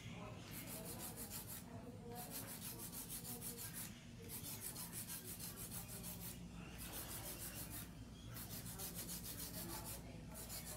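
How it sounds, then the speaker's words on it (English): Hand file rasping on acrylic stiletto nails during a full set, a steady continuous scraping rub with brief pauses between strokes, close and alone. "Hand filing with stilettos actually makes it really nice and sharp."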